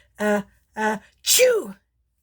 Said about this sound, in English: What was that sneeze?